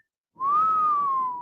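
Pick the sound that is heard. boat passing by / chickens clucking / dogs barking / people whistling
people whistling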